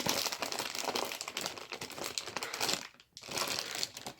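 Plastic plush toy packaging crinkles and rustles continuously as scissors cut through it, a dense, close crackling with a brief pause near the end, fairly quiet overall.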